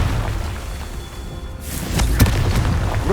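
Confringo blasting spell in Hogwarts Legacy: a sudden whooshing burst followed by a deep boom and crackling impact, loud and close over a constant rumbling game background.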